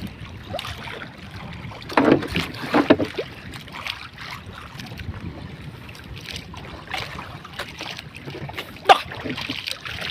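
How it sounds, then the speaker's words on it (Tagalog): Big waves slosh and slap around a small boat at sea, with irregular splashes and thumps over steady wind noise, all close by. "grabe malaki ang alon"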